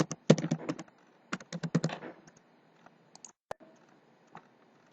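Clusters of crisp key clicks as a username and password are typed on a computer keyboard, close and fairly quiet, with a couple of short bursts followed by sparse isolated taps and one sharp click.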